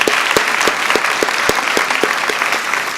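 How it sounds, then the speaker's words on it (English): Audience applause at a public committee meeting, a steady clatter of many hands clapping at moderate distance, continuous and even throughout. "Let's give them a round of applause."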